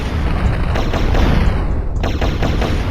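Steady carbine gunfire in Turok: Dinosaur Hunter, rapid shots running loud and continuous without a break, blended with dense game sound effects and no talk.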